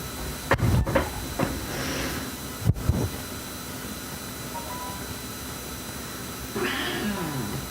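A house cat makes a few short meows and rustling movements early on, with a brief thump partway through and a softer vocal sound near the end, all fairly close in a quiet indoor room.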